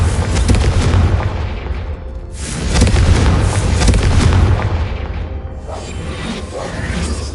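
A Confringo explosion spell in the video game Hogwarts Legacy, loud booming blasts with rushing whooshes that swell, fade and hit again across several seconds, with no voices.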